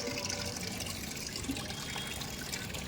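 Water is poured while a fish is being washed, a quiet continuous splashing and trickling flow, faint and steady over a few seconds with no voices.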